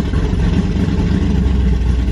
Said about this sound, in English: Prepare for the startup of the car.